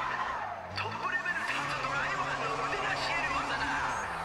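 Car drifting with squealing, skidding tires in the racing game Race Driver: GRID at Yokohama, a steady engine drone and tire screech running throughout with people talking over it.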